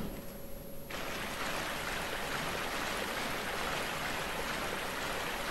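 Flowing water in the video game Dark Souls 2 rushes as a steady, dense stream-like wash that fills the whole stretch at a constant level after a brief quieter start, with no speech.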